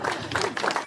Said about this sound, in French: Donc, bravo, les gens applaudissent.